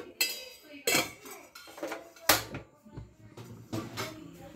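A spoon clinks against a pan while a spoonful of oil goes in for coconut chutney. Several sharp, separate metallic knocks and clinks sound close by, spaced irregularly, with softer scraping between them.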